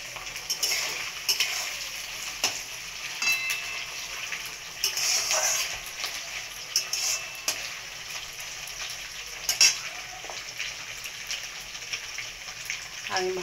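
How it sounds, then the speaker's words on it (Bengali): Dried fish fries in hot oil in a pan on a gas flame, a steady hiss with repeated scraping and clinking of a spatula as it is stirred. "তো শুটকি মাছটা দিয়ে দিয়েছি, এবার একটু নেড়ে চেড়ে নেব। একটু ভেজে নিয়ে তারপরে পেঁয়াজ কুচিটা দেবো।"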